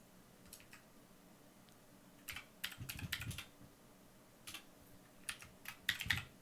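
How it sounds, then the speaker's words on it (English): Computer keyboard typing in scattered bursts of quick clicks over a low background hum, with pauses between runs of keystrokes, close and moderately loud. "You'd think I wouldn't suck at typing so much"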